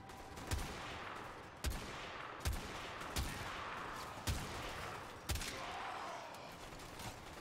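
Sporadic gunshots in a shooter video game ring out over a steady din, about six sharp reports spaced irregularly across the stretch, each with a short echoing tail.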